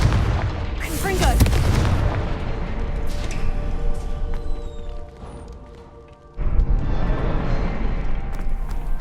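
Confringo blasting spell in the Hogwarts Legacy video game: a loud booming explosive burst with crackling debris, a brief lull, then a second heavy blast rumbling under game ambience.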